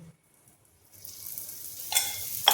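Rice flour amboli batter in a hot pan, with oil just poured over it, starting quiet and then breaking into a steadily building sizzle, with two sharper crackling bursts near the end.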